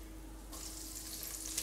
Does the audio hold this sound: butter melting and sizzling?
yes